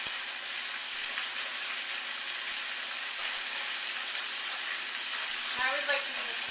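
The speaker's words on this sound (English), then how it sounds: "You just want to fry them until they're nice and golden brown." Philly fireballs deep frying in hot oil give a steady, bright sizzling hiss close by, continuous throughout, with a brief voice near the end.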